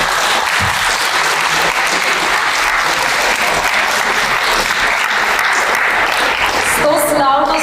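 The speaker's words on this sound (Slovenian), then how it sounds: "Vsi si zaploskajte še enkrat." An audience at a Slovenian public debate on youth independence claps loudly and continuously for several seconds, a dense wall of applause that thins out at the very end as a voice begins.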